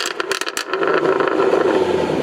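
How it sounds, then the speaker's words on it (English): A Jaguar F-Type R sports car engine revs hard through a quad-pipe exhaust, a few sharp bursts giving way to a sustained loud roar, close and with no voices. "Jaguar engine sound."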